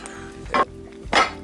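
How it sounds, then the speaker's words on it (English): A heavy Lodge cast iron pan clanks twice against metal, two short, loud knocks spaced about half a second apart over a quiet background. "Good old lodge pan right there."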